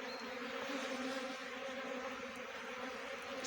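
A swarm of honey bees hums in a steady, even drone with no clear breaks, heard at moderate distance and fairly quiet, with no one speaking.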